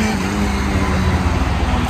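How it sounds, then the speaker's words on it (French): A motorcycle passing on a city street, a steady broadband engine roar close by blending into general traffic noise. "Ça, c'était une moto."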